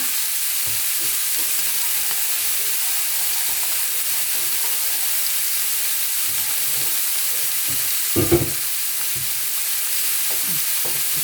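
Food stir-fries in a pan with a constant soft hiss and scattered light scraping strokes, one louder clatter near the end, no one speaking.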